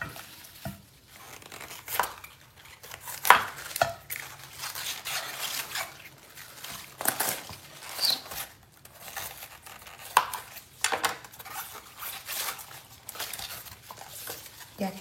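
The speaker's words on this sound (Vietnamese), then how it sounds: "bây giờ mình bắt đầu cắt cải nha các bạn" A knife cutting through washed mustard green stalks on a board, crisp irregular crunches and tearing snaps spaced a second or two apart, close and clear with no talk.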